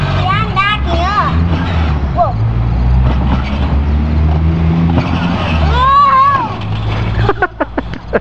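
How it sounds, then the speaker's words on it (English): A monster truck engine roars and strains loudly with grinding, skidding noise as it crashes, while people shout and talk excitedly over the vehicle's din. "Whoa! Major crash."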